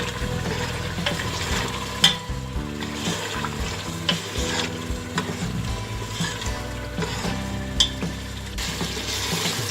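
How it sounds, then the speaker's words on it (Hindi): Mutton fries with tomatoes in a pot with a steady sizzle and occasional stirring knocks, under continuous background music. "अब इसमें टमाटर डाल दूंगी। गोश्त को अच्छी तरह से भून लेना है।"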